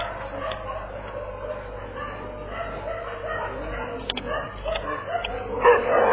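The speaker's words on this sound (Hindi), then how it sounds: "इनके साथ में शमशान में रहने वाले कुत्ते भी" Dogs that live at a cremation ground bark in short, scattered yelps and woofs at moderate distance, heard over a low outdoor rumble, with a few sharper barks late on and faint voices nearby.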